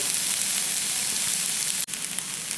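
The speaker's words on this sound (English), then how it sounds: "right now I'm just going to keep stirring this until it starts to brown up a little bit" Venison and wild pig fried rice sizzles steadily in a hot pan while being stirred, a constant close frying hiss with a brief drop near the end.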